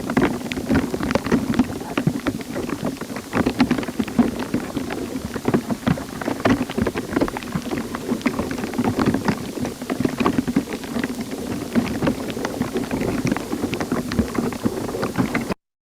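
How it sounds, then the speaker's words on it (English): Dense crackling of cavitation signals in the water vessels of drought-stressed plants, a continuous stream of tiny rapid clicks and pops with no talking. "What you hear is the so-called cavitation signals."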